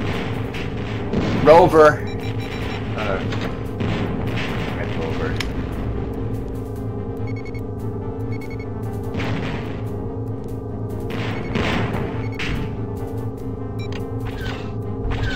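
Torpedoes are launched against a starship in the TIE Fighter game, with repeated sharp booming blasts and electronic pings over a steady engine hum while someone speaks briefly.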